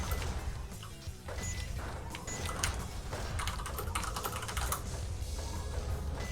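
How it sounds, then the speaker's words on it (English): Fast, clattering typing on a computer keyboard fills the span with dense, loud keystrokes and occasional heavier thumps, close up, with no talking over it. "Sorry if I'm typing too loud."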